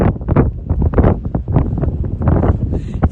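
Strong wind buffeting the microphone outdoors at a horse riding area, loud gusty rumbling bursts throughout.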